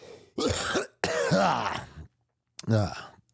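A few rough, hacking coughs or throat-clearing bursts, close and fairly loud, separated by short pauses.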